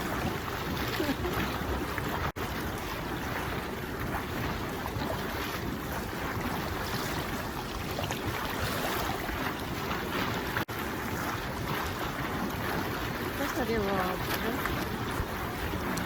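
Water from a thermal pool fountain gushes and churns loudly and continuously, a dense roaring splash close by with no break, at the Zakopane thermal baths.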